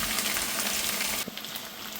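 Garlic and ginger frying in hot oil for lime pickle, giving a steady close sizzle that drops slightly in level partway through and keeps crackling without any talk.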